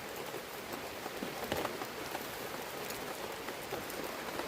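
Rain falls steadily in a soft, even hiss of many drops striking a surface, faint and continuous with no voices.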